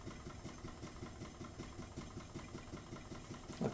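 An improved Ringbom Stirling engine powering a set of 20 large LEDs runs at a steady speed, giving a quiet, even, rapid rhythmic chuffing with a faint mechanical hum and no talking.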